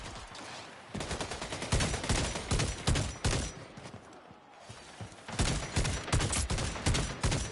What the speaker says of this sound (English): I got a 3-round burst rifle.